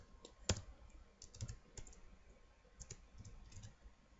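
Typing on a computer keyboard while entering a Belkin router address into a browser: a handful of soft, scattered key clicks with one sharper tap near the start, faint and close, with no talking.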